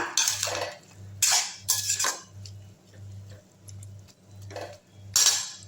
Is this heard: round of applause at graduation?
no